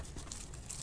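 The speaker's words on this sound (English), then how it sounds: "Now take your plastic bag and your cookie and just place it in the bag" A plastic bag crinkles and rustles softly as a cookie is slipped inside, a faint, close, continuous crackle with no talking.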